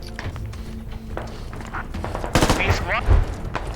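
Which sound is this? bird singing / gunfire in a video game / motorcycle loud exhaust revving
gunfire in a video game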